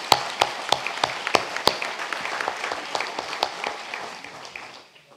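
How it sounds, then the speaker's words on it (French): Audience applause at a closing plenary session of a congress, a burst of sharp individual claps that thins and fades out over about five seconds, with no talking. "on peut tous les applaudir pour leur soutien effectivement à l'occasion de ce congrès"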